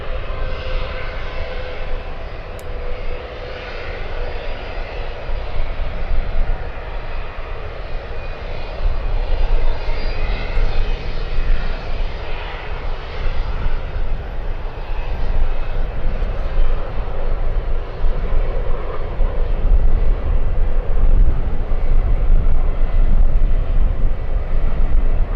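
United airliner bound for Seattle crossing a runway at San Francisco airport, a continuous loud engine roar that swells slightly partway through and holds steady, nearby, without talk.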